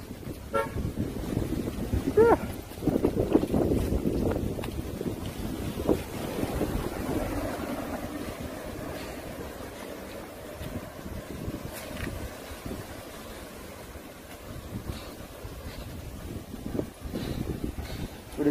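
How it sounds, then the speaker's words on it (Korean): Strong typhoon wind from Typhoon Lingling roars and buffets the microphone in gusty, rumbling waves, loud and close, with a steadier low howl in the middle stretch and no clear talk. "와, 바람이 장난 아니다"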